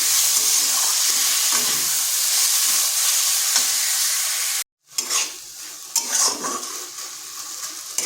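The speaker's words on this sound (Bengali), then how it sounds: "আলুটাকে একটু ভাজা ভাজা করে নিচ্ছি, আর এটাকে ঢাকা দিয়ে ভাজবার কোনো প্রয়োজন নেই।" Raw potato frying in a pan over medium-low heat, a loud steady sizzle with scraping stirs against the pan, a brief cut to silence midway, then sizzling and stirring resume, no speech.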